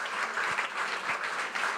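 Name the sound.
applause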